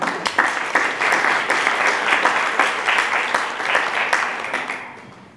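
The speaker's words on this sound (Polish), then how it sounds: "Wielkie brawa i zaczynamy." An audience applauds at a school debate, with steady, fairly loud clapping that holds for several seconds and then tapers off at the end.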